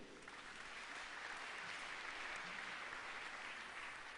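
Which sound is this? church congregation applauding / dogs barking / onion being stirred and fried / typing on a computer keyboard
church congregation applauding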